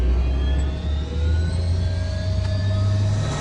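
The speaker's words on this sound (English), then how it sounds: "It seems like it's already warming up the engines." Engines of a 46-year-old Soviet Yakovlev-40 jet airliner warming up, heard from inside the cabin: a steady, loud droning roar with high whining tones that slowly climb in pitch.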